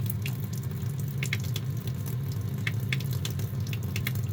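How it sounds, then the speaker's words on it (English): Water runs steadily from a kitchen sink tap into a watering can indoors, a continuous close splashing stream with a few drip-like clinks and no talk. "Get a little bit of water in here"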